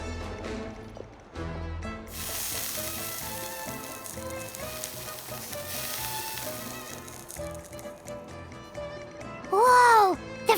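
Mushrooms sizzle on hot armor in a video game, a bright continuous hiss set against background game music, with a loud vocal exclamation near the end.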